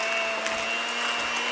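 Electric hand mixer beating cream cheese with sweetener, a steady high whirring drone at constant speed, close and alone without any talking.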